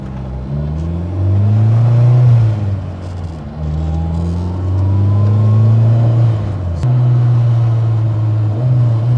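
A 600HP turbocharged engine in a 1992 Honda Civic EG hatchback revs and accelerates up through the gears, a loud close rising drone with a pause between pulls and a whoosh near a gear change.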